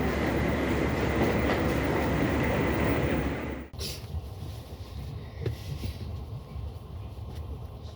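A train at Moscow's Leningradsky station, heard up close as a loud steady rumble with clatter that cuts off abruptly, leaving quieter station ambience with scattered clanks.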